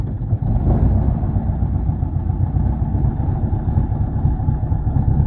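A light aircraft engine drones loudly and steadily at a constant low pitch, a continuous rumbling run with no pauses.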